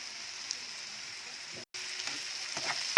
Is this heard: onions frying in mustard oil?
yes